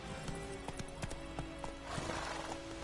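Hooves of a galloping horse in The Witcher 3 video game, clip-clopping in a steady rhythm close up, with a brief neigh or snort among the beats and no talk.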